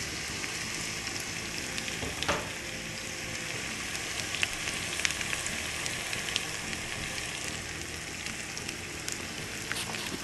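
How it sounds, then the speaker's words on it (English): Chopped onions sauteing in melted butter over a medium-high flame, a steady close crackling sizzle with one louder pop of spatter, continuous and unbroken with no one talking. "we're going to be sauteing these until they start browning and caramelizing"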